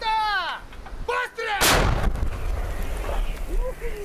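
A Ukrainian artillery unit's 152mm howitzer firing at the front line, a single heavy, booming blast with a long rolling rumble, loud and close, with voices heard before the shot.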